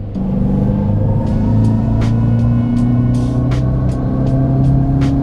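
A Dodge Charger EV accelerating, a loud steady electric whine and road rumble from inside the cabin with faint ticking taps, no talk.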